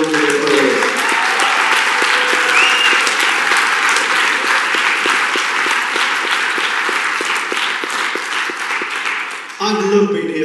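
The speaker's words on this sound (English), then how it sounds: "give them a massive wow round of applause" A massive round of applause from a conference audience, loud, dense and sustained for about nine seconds, with a voice speaking briefly at the start and again as it ends.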